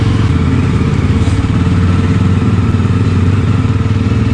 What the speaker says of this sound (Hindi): मैं अपनी बाइक की आवाज़ का पीछा कर रहा हूँ